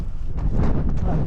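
Strong wind on Mont Ventoux buffets the microphone, a loud, low, blustery rumble with uneven gusts across the short stretch.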